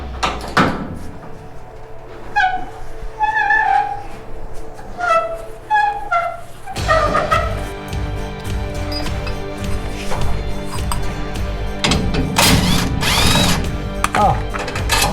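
On a Squarebody C10 rear end, a power ratchet spins bolts loose in short bursts of whirring between clanks and metallic handling, with bright tool noise and occasional clatter in a garage, and no talking.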